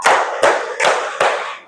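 Four crisp hand claps in a steady, evenly spaced rhythm, close and fairly loud, from a classroom counting-clap exercise led by a teacher.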